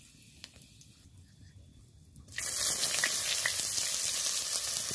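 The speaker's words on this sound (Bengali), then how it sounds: "ভাজা ভাজা হলেই দিয়ে দেবো কেটে রাখা পেঁয়াজ।" Chopped onion hits hot oil halfway through, and a quiet stretch turns suddenly into a loud, steady sizzle that continues close up to the end.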